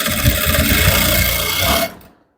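A sewing machine stitches round the edge of a dashiki, a steady continuous motor whir running close and loud for nearly two seconds before stopping abruptly and fading to silence.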